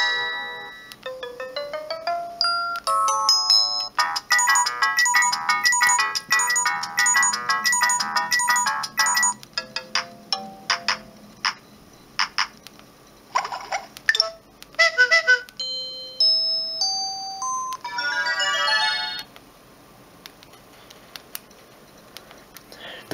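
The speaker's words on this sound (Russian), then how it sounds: "Звуки сообщений." Series of short melodic alert tones from a Samsung C100 mobile phone, each a quick electronic beeping or chiming jingle played one after another, loud and close, with brief gaps between them and no talking.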